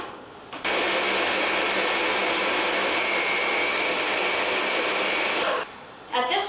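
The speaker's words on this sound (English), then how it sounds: "so our butter is all in the mixer." An electric stand mixer creams three sticks of unsalted butter, running as a loud, steady whir that starts abruptly, holds evenly for about five seconds, then cuts off.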